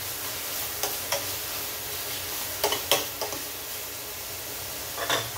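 Mushrooms and shallots browning in a pan sizzle in a steady, even hiss, with a few sharp clicks of a utensil against the pan scattered throughout and no talking.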